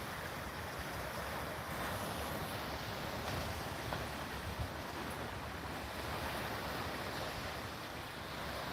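Steady surf washes onto a beach in Queensland, Australia, a broad continuous roar of breaking waves mixed with wind buffeting the microphone, with no voices.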